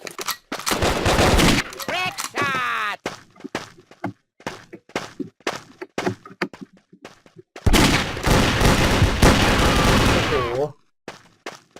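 Thompson submachine gun firing in the Brick Force video game, loud rapid automatic bursts with short pauses between them, then a longer sustained burst near the end.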